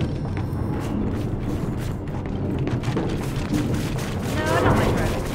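A gate blows open in the Gears 5 video game with a loud, sustained rumbling explosion that fills the whole stretch and swells slightly near the end.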